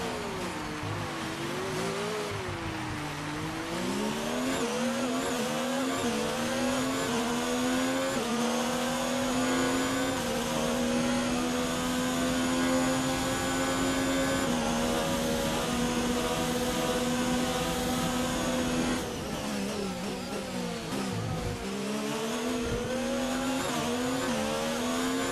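A Formula 1 car engine in F1 2019 at Monza screams at high revs, its harmonic whine climbing and falling through gear changes, loud and continuous with a brief downshift dip near the end.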